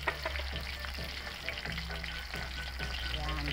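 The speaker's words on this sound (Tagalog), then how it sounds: "Ipiprito po muna natin." Laeng (pork fat) frying in a pan for adobo, a soft steady sizzle with occasional stirring clinks, fairly quiet and continuous throughout.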